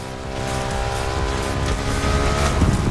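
A BMW R1200 GS motorcycle rides off-road in The Crew Motorfest racing game, its engine a loud, continuous close drone that builds slightly over a few seconds, with a rough, gravelly texture underneath.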